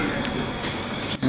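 A South Western Railway Class 444 train departs Havant, a brief low rumble of rolling stock close by with faint speech nearby.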